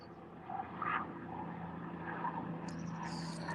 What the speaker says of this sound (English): we have a chopper again